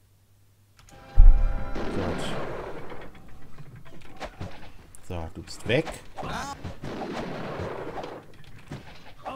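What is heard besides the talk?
gunfire in a video game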